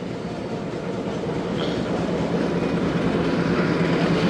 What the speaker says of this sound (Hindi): राइट टाइम रवाना हो रही है दोस्तों ट्रेन।